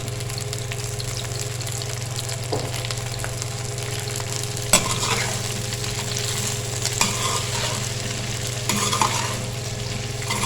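Okra frying in hot oil with a teaspoon of salt, giving a continuous dense sizzle close by, broken by a few louder stirring scrapes and clinks, with no one talking.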